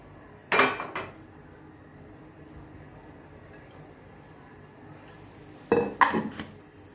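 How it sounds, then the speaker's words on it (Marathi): A pan being handled on the stove while cooking potato fry, with two short clattering bursts of metal and utensil contact, one near the start and one near the end, and a quiet background in between. "पॅन ठेवला आहे आणि याच्यात आपण तेल टाकू."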